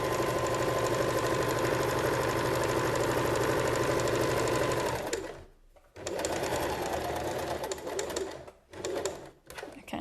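A sewing machine stitching fabric for a homemade produce bag: a steady, loud, fast mechanical whirr running continuously, then stopping briefly and restarting in shorter bursts, up close with no talking.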